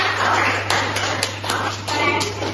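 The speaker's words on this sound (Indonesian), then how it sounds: "Tepuk tangan untuk kalian." A class of schoolchildren clapping hands for themselves in a classroom, a few loose bursts of claps spread over a couple of seconds against a steady low hum, with no talk.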